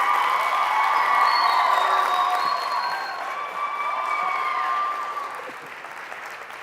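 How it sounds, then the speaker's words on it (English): A high school auditorium audience at a TEDx talk bursts into applause with cheers and whoops, a dense roar of clapping with high shouts on top that gradually thins out. "Dacula, stand up and give Mr. Samuel Wan a huge round of applause."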